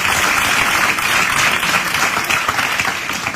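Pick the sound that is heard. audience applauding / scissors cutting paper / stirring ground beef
audience applauding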